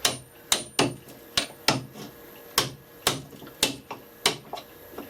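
Wood chisel struck repeatedly by hand while chopping a mortise in a wooden hand plane body, about ten sharp, evenly spaced knocks close by with no talking.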